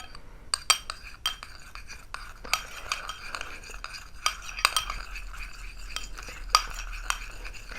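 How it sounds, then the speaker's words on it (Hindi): Homemade under-eye cream with vitamin E capsules is stirred in a small container, giving soft irregular scraping and light clinks of a spoon against the side, close and fairly quiet. "Mix it well now."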